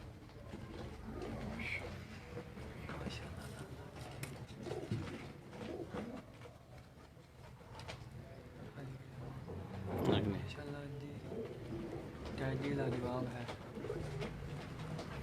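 Pure Sialkoti high-flying pigeons coo softly and repeatedly in the background while someone talks over them, with scattered rustling and a brief louder burst midway.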